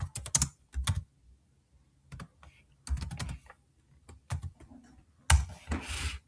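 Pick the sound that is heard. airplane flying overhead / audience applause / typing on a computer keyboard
typing on a computer keyboard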